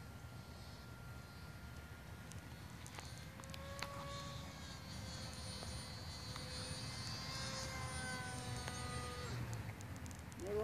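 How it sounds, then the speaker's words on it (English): A Hobbyking Mini Breeze RC electric glider climbs under motor power in flight, its small electric motor a thin, whining drone heard from a distance over outdoor wind and background noise, with tones shifting as it moves, and no talk. "Motor back on. It climbs really, really fast."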